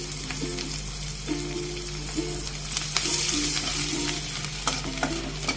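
Chopped garlic frying in a pan for a Bengali hilsa-head and Malabar spinach chorchori, with a continuous crackling sizzle and repeated spatula scrapes and taps, close and steady throughout.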